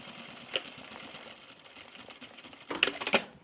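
A sewing machine stitches a seam on a fabric laundry basket, a soft mechanical whirr with scattered ticks and a louder rattling run of stitches near the end, close and quiet.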